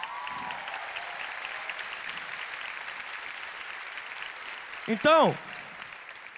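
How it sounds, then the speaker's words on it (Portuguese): Applause from a church youth conference crowd rises as a steady, moderately distant wash of clapping, with a voice speaking briefly over it near the end. "você pode aplaudir o Senhor pela vida dela?"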